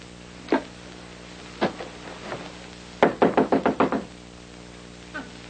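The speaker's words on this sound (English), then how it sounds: "When I knock, you let me in." Knocking on a door in an old sitcom scene: a single knock, a couple of scattered raps, then a fast run of six sharp knocks, and one last faint tap, all close and clear with no talk.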